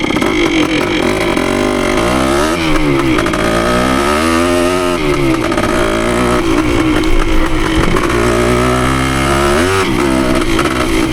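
A Yamaha CT3 175 motorcycle engine revs hard while pulling away, its close, loud two-stroke buzz rising and falling through several throttle surges and gear changes, with no talking.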